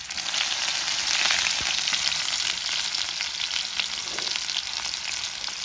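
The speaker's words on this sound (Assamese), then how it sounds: "আৰু এতিয়া ইয়াত পিঁয়াজ পৰিছে" Onions fry in a pan for a partridge meat dish, giving a steady, dense sizzle that holds at an even level throughout with no voices.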